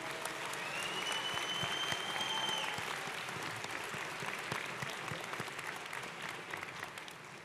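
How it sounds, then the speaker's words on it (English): Sustained audience applause for graduate students at a university graduation ceremony, steady dense clapping from a large crowd heard at some distance, easing slightly toward the end. "Let's have a big round of applause for these graduate students."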